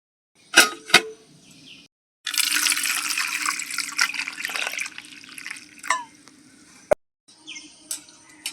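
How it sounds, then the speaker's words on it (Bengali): Running tap water splashes over two ripe mangoes being washed in a kitchen sink, a steady close gush lasting several seconds, framed by a few sharp clunks and knocks before and after, with no speech. "আম দুটো আমি এখন ভালো করে ধুয়ে নিচ্ছি"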